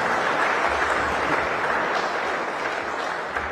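Sustained audience applause at a public speech in Hrazdan, a dense, steady wash of many hands clapping that holds for several seconds and tapers slightly at the end.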